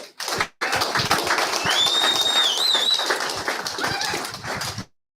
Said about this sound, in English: Everyone, another round of applause for Chase Oliver.